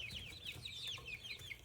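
Young backyard chicks peep and cheep in high, wavering calls, a quick run of soft chirps over faint low background noise.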